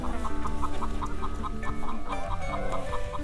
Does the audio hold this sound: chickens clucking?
yes